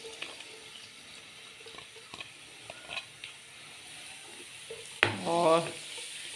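Chopped garlic goes into cumin frying in a pan, a low sizzle with light scrapes that flares into a louder burst of crackling as it lands near the end.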